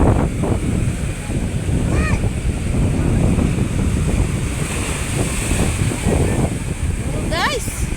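Loud wind buffets the microphone over a continuous roar of large surf and crashing waves beside a boat, with brief faint voices and squeaks in the background.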